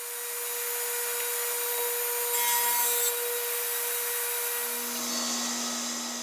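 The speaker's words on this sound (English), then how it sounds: "I start by making the first pass cuts in all the corners." A radial arm saw fitted with a thin kerf blade cuts spline slots into a wooden frame corner, giving a steady high whine with a brief louder bite into the wood partway through and a rising tone near the end.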